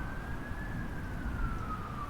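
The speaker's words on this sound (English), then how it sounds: "I unironically really enjoy the sounds of those horns" A single siren tone arcs gently upward and then falls inside a busy video game city ambiance, layered over constant low traffic noise at a steady level, no voices.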